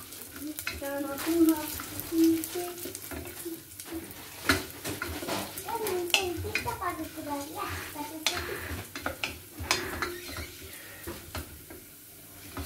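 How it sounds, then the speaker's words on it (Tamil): Toor dal fries in oil in a pan, giving a soft steady sizzle broken by scrapes and clinks of stirring, with occasional bird calls in the background and talk over parts of it. "இந்த மாதிரி துவரம் பருப்பை வந்து ஒரு 2 மினிட்ஸ் வந்து எண்ணெயில் வறுத்துக்கலாம்."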